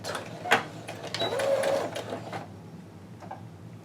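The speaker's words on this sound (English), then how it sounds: "I'm going to stick this under my sewing foot. I just have it on a straight stitch, and I'm just going to go back and forth." A sewing machine straight-stitching with black thread, its needle running in a steady mechanical whir for about two seconds, close and clear, before fading into a quiet room.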